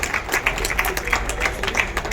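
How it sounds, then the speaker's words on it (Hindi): A crowd at a Hindu mass gathering applauds to welcome Maharaj ji, a dense and steady patter of many hands clapping at a moderate distance with no break. "तालियों से, जोरदार तालियों से उनका स्वागत करेंगे"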